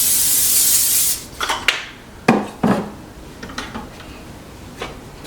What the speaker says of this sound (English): I'm gonna give it a little spray.